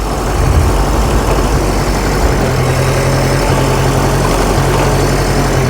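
Grey Fergie tractor engine running in first gear at very slow speed: a loud, steady low-pitched chugging drone that holds constant throughout, heard close up with no speech.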